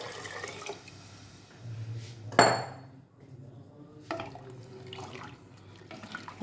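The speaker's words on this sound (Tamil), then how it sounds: "நம்ம எவ்வளோ கடலை இருந்ததோ அதே அளவு தண்ணியை நம்ம இது கூட சேர்த்திடுறோம்." Water splashes into a pot of chickpeas for Kerala kadala curry, a short gurgling pour amid clinks of a metal vessel and utensils in a quiet kitchen, with no talking.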